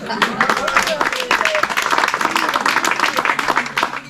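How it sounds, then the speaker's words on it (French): An outdoor charity event crowd in France applauds, a dense, fairly loud wash of clapping mixed with voices, lasting evenly throughout. "Et vous pouvez les applaudir."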